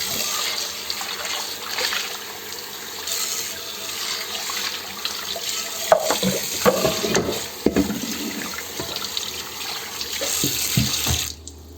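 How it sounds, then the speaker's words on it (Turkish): Running tap water splashes steadily into a sink as a burnt pan is rinsed, with clatters and shifting splashes as the pan is turned under the stream. "şimdi durulayalım"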